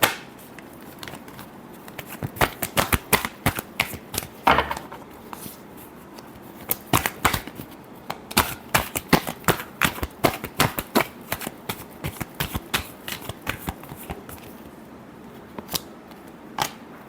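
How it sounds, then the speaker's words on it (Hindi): A deck of tarot cards is shuffled over and over, a long run of quick, crisp flicking and snapping bursts in an irregular rhythm, close and fairly loud, with no talking. "last shuffle"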